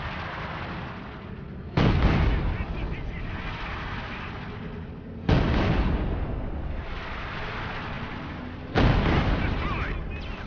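Artillery bombardment in the video game Company of Heroes 2: three heavy, booming impacts roughly three and a half seconds apart, each a loud sudden blast followed by a long rumbling decay over a continuous low battle din.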